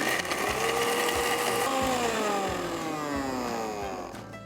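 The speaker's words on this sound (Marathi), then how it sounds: "आणि आता ह्याला आपण वाटून घेऊया।" A mixer grinder whirs steadily as it blends grated coconut, fiery Bedgi chillies and a little water into a masala paste, a loud continuous motor drone with a pitch that shifts as the load changes.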